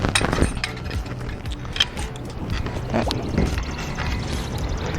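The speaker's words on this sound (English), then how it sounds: "we're just pouring water into the net here" Water is poured into a fine mesh net used to collect mosquito larvae outdoors, a close, continuous splashing pour with a few drips and sloshes, loudest at the start and steady afterward.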